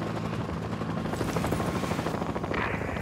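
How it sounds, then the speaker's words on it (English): A friendly helicopter in Battlefield: Bad Company thumps overhead with a loud, dense rotor chop amid battle noise and scattered gunfire, with no talking. "Hey, look! That's our chopper!"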